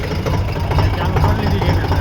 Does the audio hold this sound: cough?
no